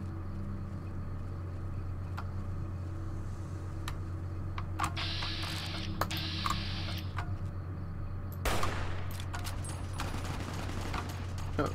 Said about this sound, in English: That's somebody completely different they're shooting at.